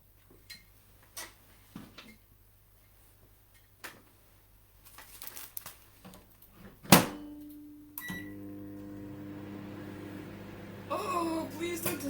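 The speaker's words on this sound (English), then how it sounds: "Something's wrong with the microwave." Faulty microwave oven in a home kitchen gives scattered clicks and ticks, then a sharp crack before settling into a loud, steady electrical hum and buzz, with a harsh crackling burst near the end.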